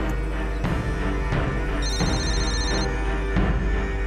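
Outgoing call ringing on a phone, with repeated electronic ring tones in steady bursts over a dense background of music and ambience, fairly loud and close, no talking.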